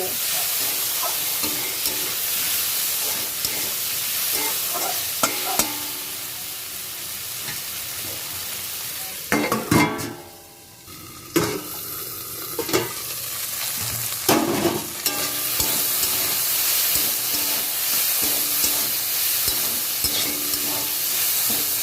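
Okra cooked with mustard, salt and turmeric sizzles in a pan as it is stirred, with scraping stir strokes over constant frying. A brief quieter dip comes midway before the sizzle and stirring return.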